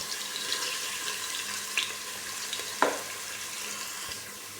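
Garlic frying in a pan for octopus adobo, a steady close sizzle and hiss with a few small pops and clinks and no voices.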